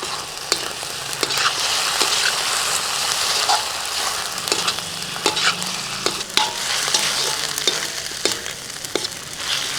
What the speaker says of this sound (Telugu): 1 కేజీ చికెన్ వేసుకుని బాగా కలుపుకుందాం